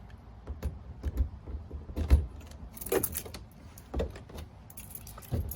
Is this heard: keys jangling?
yes